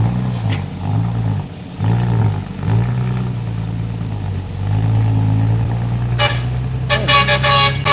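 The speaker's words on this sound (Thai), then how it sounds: "ขอบคุณครับสำหรับเสียงแตร" A car horn honks in short bursts near the end, over a steady rumble of engines and traffic.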